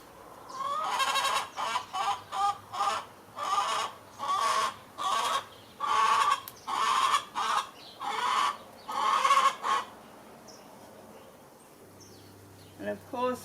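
Clucking from chooks at an old homestead, a regular series of loud, close, squawking calls that stop partway, followed by quiet.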